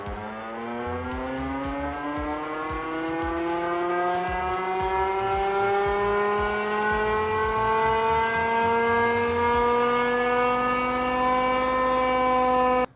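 A Velocifero Jump electric motorcycle accelerates hard to 60 mph, its motor whine climbing steadily in pitch and growing louder over about ten seconds before levelling off near the top, close and continuous.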